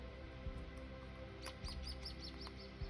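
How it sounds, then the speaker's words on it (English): Small birds chirp in short repeated tweets, faint and distant outdoors, over a low steady background hum. "you can hear the birds out in my yard"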